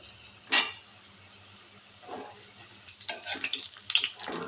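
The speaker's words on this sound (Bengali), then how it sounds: "এবার পটলগুলো ভেজে নেব। যতগুলো হবে একবারে দিয়ে দেবো।" Pointed gourds (potol) drop into hot oil and spit, with a sharp burst of sizzling followed by scattered crackles and pops at close range, no voices.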